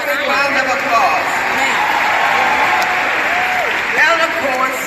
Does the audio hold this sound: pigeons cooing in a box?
no